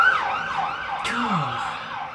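An emergency vehicle siren wails close by, its pitch sweeping up and down in rising and falling cycles that stay loud and steady, with no talking.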